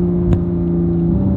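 Supercar with a stock exhaust under acceleration, a steady mid-pitched engine drone held close and loud for the whole moment with one brief sharp blip near the start.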